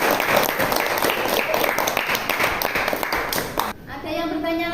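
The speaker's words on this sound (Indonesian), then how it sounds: "Tepuk tangan anak-anak." Children in a classroom clap together in a dense, steady round of applause for about four seconds, then it stops and a voice speaks.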